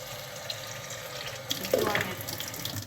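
Tap water runs into a sink as peanuts are washed for ndolé, a soft steady stream that grows louder and splashier partway through, close by in a kitchen.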